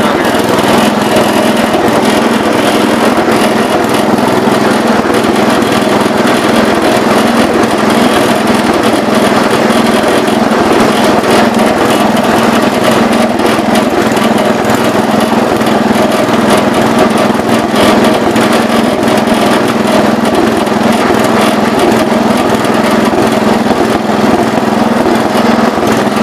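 Engine of a 1970 Wheel Horse 408 lawn tractor running steadily and loudly throughout, a constant close droning hum with no break.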